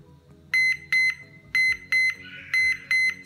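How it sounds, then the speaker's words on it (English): Thermoworks Smoke BBQ thermometer sounding its low-temperature alarm, paired high electronic beeps repeating in a steady rhythm, close and clear over faint background noise. "We've set the alarm to alert us for when the temperature drops below 60."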